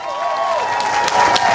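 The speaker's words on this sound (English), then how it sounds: "Let's give a big round of applause for Bill and all he does each and every day" Loud, steady applause and cheering from an Earth Day SF crowd in San Francisco honoring a speaker, with whistles and whoops rising above the clapping throughout.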